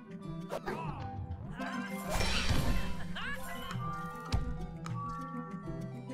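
Pegs shatter repeatedly in the video game Roundguard, with crashing, clattering hits and chiming game effects over steady background music; a heavier burst of smashes lands midway.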